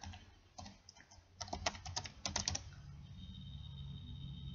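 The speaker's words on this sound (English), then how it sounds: "Sorry if you guys can hear this obnoxious typing." Bursts of quick keyboard typing in an uneven rhythm, close and fairly quiet, settling into a low steady room hum afterward with no talking.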